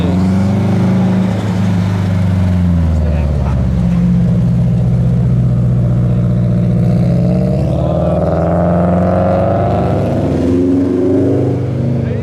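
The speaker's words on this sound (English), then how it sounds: "There are a couple here, including this Polo that's arriving now." A Volkswagen Polo pulls into a car meet, its engine note rising and settling as it rolls slowly past, a steady close rumble with no talk.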